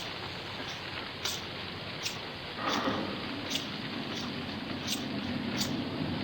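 Steady rain hisses across the whole spectrum, a dense continuous patter with occasional louder drops, no voices.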